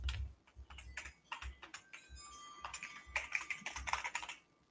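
Quiet, close typing on a computer keyboard, with irregular bursts of light key clicks and brief pauses between them.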